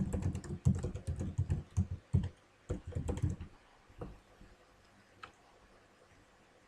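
Fast typing on a computer keyboard, a dense burst of close key clicks in short flurries that thin out into a few isolated taps, with no talking.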